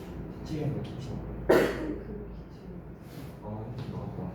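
A single sharp cough bursts out near the middle, loud and close, with quiet talking around it.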